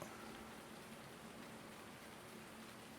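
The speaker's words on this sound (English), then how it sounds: "It also doesn't look like this rain is going to stop." Rain in the Farming Simulator game, heard as a steady, even hiss of falling drops that holds at a constant level throughout; quiet ambient weather with no talking.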